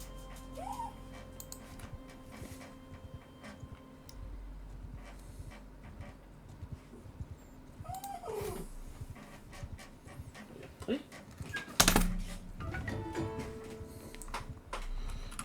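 A dog in the Mount & Blade II: Bannerlord game panting and giving a few soft whimpers, fairly quiet, over a low background of game sound and occasional faint voices.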